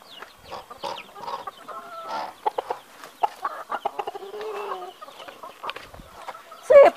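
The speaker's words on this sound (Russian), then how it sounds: "Большие куры маленьких выгнали." Large hens that chased chicks away cluck and squawk in a farmyard, a busy run of short, uneven calls that build into a louder outburst near the end.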